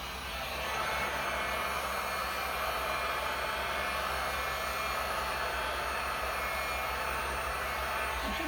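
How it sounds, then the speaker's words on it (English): A heat gun blows over resin art in a steady, close whooshing roar that starts up within the first second and then holds evenly, with no talking over it. "let me get my heat gun here"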